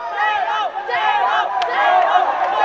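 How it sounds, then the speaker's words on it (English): Spectators at the ABU Robocon 2023 national robot contest in New Delhi chant together to urge on their team, a loud continuous crowd roar with rhythmic voiced swells throughout. "You can hear the chants from the crowd urging their team."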